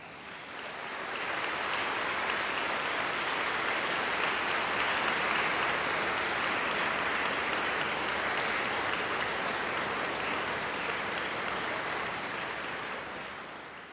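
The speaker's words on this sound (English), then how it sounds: "That was a very polite and restrained applause." Sustained applause from a graduation ceremony audience fills a large hall, a dense steady wash of clapping lasting well over ten seconds at even volume before tapering off at the end.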